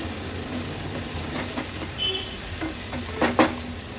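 Turmeric being stirred into sautéed onions in a pan, a steady low sizzle with soft scraping strokes and a couple of louder spoon clicks near the end.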